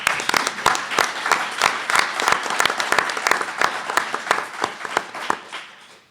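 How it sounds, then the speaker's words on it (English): An audience at an environmental justice task force meeting gives a round of applause for Dagoberto Morales, dense, close clapping from many hands throughout, tapering off at the end. "Please give a round of applause for Dagoberto Morales."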